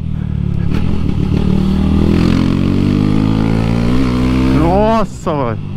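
A Honda Start 160 motorcycle with a new aftermarket exhaust roars loudly close by, its pitch climbing steadily as it revs up, then dropping and rising again in quick bursts.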